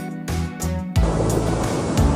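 Surf at Muchangpo beach in Chungnam, on Korea's west coast with its wide tidal flats, makes a loud, steady rushing wash that swells near the start and then holds close and continuous.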